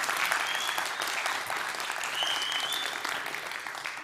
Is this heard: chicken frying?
no